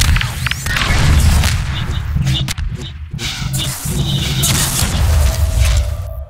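A loud rocket blast in Half-Life 2 Deathmatch, booming impacts with a sharp crack and rumbling tail, followed by further thuds and game noise at close range.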